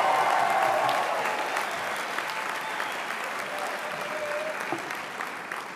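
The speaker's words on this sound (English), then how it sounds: "Please give a round of applause for the graduates from the Sport Management Program." Sustained applause from an audience for sport management graduates at a spring convocation ceremony, steady and moderately loud, easing slightly but continuing throughout with a brief voice heard early on.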